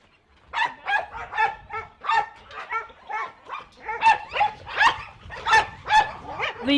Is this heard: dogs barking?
yes